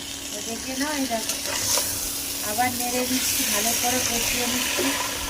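Onions with garlic paste frying and being stirred in a pan, a steady close sizzle with scraping strokes, someone talking over it throughout.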